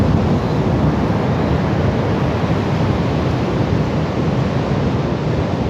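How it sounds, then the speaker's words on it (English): Steady, loud wind roars across the microphone at Bondi Beach, a broad unbroken rush with no pauses or voices. "We're getting a bit of wind."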